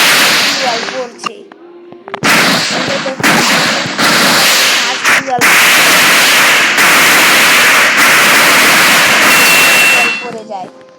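Loud, close gunfire bursts from an AWM sniper rifle in a mobile shooting game, fired with the left fire button, coming in rapid cracking volleys with short gaps, and a voice talking faintly underneath.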